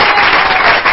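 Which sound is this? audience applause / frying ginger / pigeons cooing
audience applause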